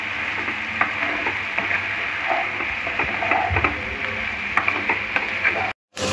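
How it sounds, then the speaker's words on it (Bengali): Fried chicken 65 sizzles in a pan as it is stirred, with steady frying hiss, scattered light scrapes and taps of the spoon against the pan, close and without talk. "এই চিকেন ভাজাটাও ভালো করে মিশিয়ে নিতে হবে।"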